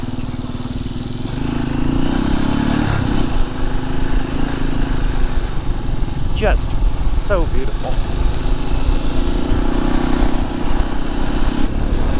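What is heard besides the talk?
Halcyon 450 motorcycle engine while riding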